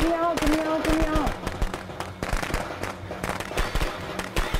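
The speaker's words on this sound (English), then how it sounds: "There's another firecracker for you to come out." A firecracker goes off in the Friday the 13th video game as a rapid string of sharp cracks and pops across several seconds, under excited talk from players.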